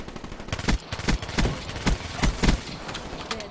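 Vesper gun firing in a first-person shooter video game, a rapid burst of punchy shots followed by further short bursts and spaced single shots, loud and close, with little talk.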